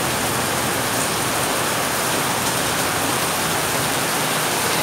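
Heavy rain pouring on a Saigon street, a dense, loud, unbroken hiss of downpour filling the whole stretch without any voices.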